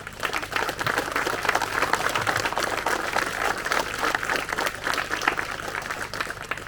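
Steady applause from an audience gathered at a municipal inauguration ceremony in France, a continuous patter of many hands clapping at moderate volume throughout.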